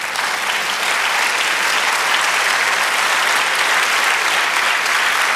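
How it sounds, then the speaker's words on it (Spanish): A church congregation applauding during a sermon, dense loud clapping from many hands that holds evenly for several seconds. "Denle un aplauso al Señor."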